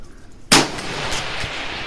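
A rifle fires a single loud shot at a 500 yard target on an open range. The sharp blast is followed by a long, rolling echo, with no speech.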